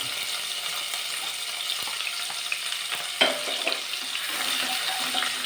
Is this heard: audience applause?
no